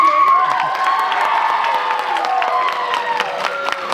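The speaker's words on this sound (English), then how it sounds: "Can we get some applause for the person who's not" A convention crowd at an anime voice-actor panel claps and cheers, with dense applause, whoops and excited shouts filling a large hall.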